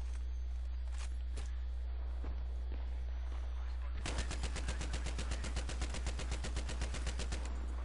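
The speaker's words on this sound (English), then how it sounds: "I do love this mounted gun on the Jeep." Mounted machine gun on a jeep fires a long, rapid burst in Battlefield 3, loud and close, after a few scattered distant shots and quiet battlefield ambience.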